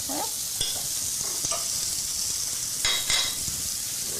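Garlic and butter sizzle in a pan alongside seasoned asparagus, a steady close frying hiss with a few scraping stirs.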